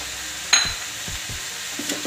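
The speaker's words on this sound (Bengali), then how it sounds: "এইখিনি 10 মিনিট ভাজি লওঁ।" Rice frying with sugar, ginger, cashews and raisins, stirred in a pan in a few close scraping strokes under a soft steady sizzle, with one sharp clink near the start.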